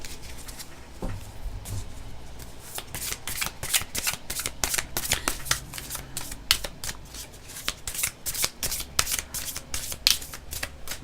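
Tarot cards are shuffled by hand, a close series of quick riffling bursts and soft slaps repeating steadily for several seconds with no talking.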